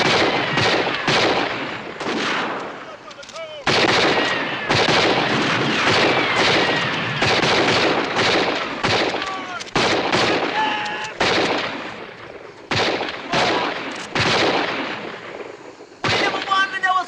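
Film gunfire: a rapid series of loud, sharp shots in irregular bursts, some clustered closely and others separated by brief pauses, close and dominant throughout.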